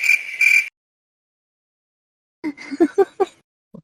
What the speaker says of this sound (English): Those are cricket noises.